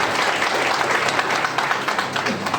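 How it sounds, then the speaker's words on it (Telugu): An audience applauds together at a spiritual gathering in Anakapalli, a steady, close burst of many hands clapping that holds at full strength for the whole stretch. "చప్పట్లు కొట్టండి"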